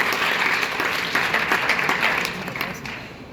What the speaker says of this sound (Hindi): जोरदार तालियों से महाराज से